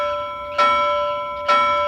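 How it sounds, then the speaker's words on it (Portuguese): A bell ringing twice, two loud evenly spaced strikes, each with a long bright ringing tone that decays between hits. "o barulho do sino acordou as pessoas"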